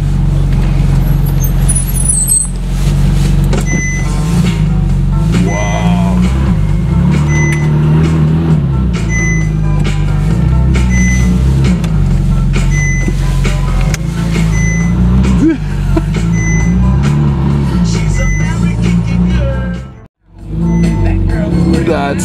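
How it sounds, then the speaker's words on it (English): A straight-piped Ferrari 458 pulls up nearby with a loud, continuous rumbling engine drone that dips briefly near the end, while people talk over it. "Pulling up in a 458."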